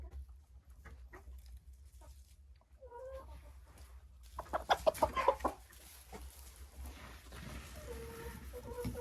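Young Dark Shell laying hens cluck softly in a coop, scattered short clucks and calls growing busier midway, with faint rustling and low background hum.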